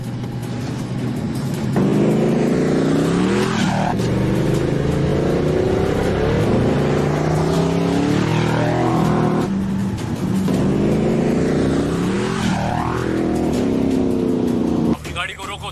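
A car engine roars steadily in a dubbed movie scene, rising and falling in pitch as it accelerates through several surges, loud and continuous with a brief drop at the very end.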